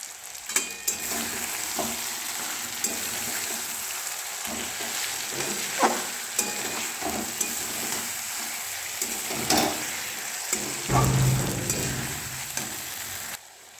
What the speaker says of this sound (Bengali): টমেটো সস দিলাম, দিয়ে পরে কষে নিই, ফ্রাই করে নিই